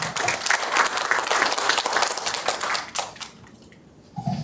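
An audience at an academic symposium opening at Dongguk University applauds in a dense, steady burst of clapping that fades out after about three seconds, leaving quiet room tone and a brief sound near the end.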